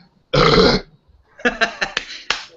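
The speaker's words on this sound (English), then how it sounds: "I feel like I'm about to let out another big burp" One loud, drawn-out burp after drinking canned, carbonated King Cobra premium malt liquor, followed by a few shorter throaty vocal sounds close to the mic.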